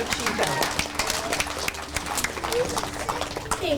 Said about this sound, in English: We have to give you all a big hand of applause